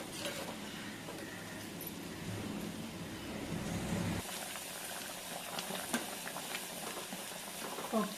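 Chana dal bubbles at a rolling boil in a pot of water, a continuous close burble of popping bubbles with a few brighter splutters, heard alone without talk.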